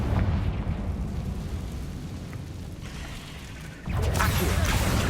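A Confringo fire spell explodes in Hogwarts Legacy with a loud, broad roaring blast that sustains, dips slightly, then surges again as a second burst hits.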